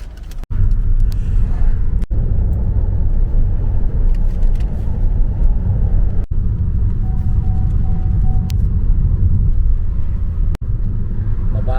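Car creeping along slowly behind a learner driver on a UK road, steady interior engine and road rumble throughout with a few sharp clicks and a brief faint tone, no talk.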